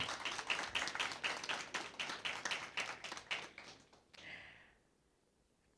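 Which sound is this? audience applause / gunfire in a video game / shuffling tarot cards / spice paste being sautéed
audience applause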